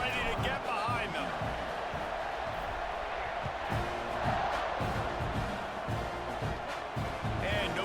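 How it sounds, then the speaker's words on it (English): Stadium crowd noise in the video game EA Sports College Football 26, a steady loud roar with scattered cheers and whoops at a college football kickoff, broadcast-style commentary running over it throughout. "this crowd now ready to get behind them"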